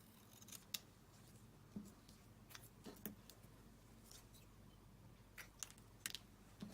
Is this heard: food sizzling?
no